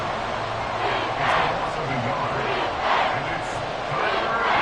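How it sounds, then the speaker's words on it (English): Stadium crowd noise in the football video game Madden, a broad steady roar that swells in waves as fans get louder on third and long, carried under a commentator's voice. "This crowd turning up the decibel level."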